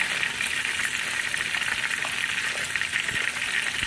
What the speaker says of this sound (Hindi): और साथ साथ हम इसको फ्राई करते जाएंगे